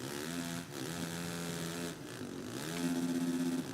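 A motocross bike engine races in MXGP3 on a rutted dirt track, a steady high revving drone that holds its pitch, dips briefly, then climbs louder near the end, with no talk.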